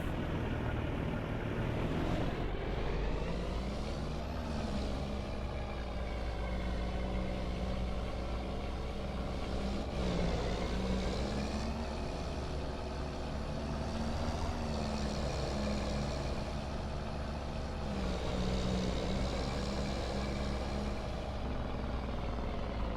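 A truck engine in Farming Simulator, pulling a black Load King trailer, runs steadily loud throughout, its pitch rising and falling as it accelerates and shifts, with no voices.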